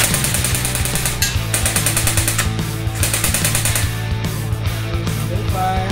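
EC 854 airsoft rifle test firing on full auto with an 11.1 volt LiPo battery, a loud continuous rapid mechanical chatter of evenly spaced shots sustained throughout, close to the listener.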